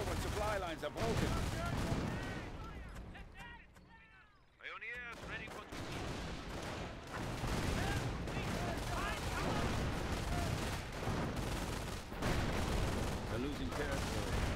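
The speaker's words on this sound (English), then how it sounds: "Base is under enemy fire." Heavy gunfire at a base under attack in the World War II game Saving Private D-Day, loud continuous volleys of rifle and machine gun shots with explosions, a brief lull partway through, and voices heard amid the battle.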